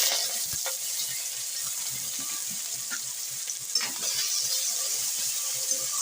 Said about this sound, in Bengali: আমার তেল গরম হয়ে গেছে। এবার আমি পেঁয়াজটা দিয়ে দেবো।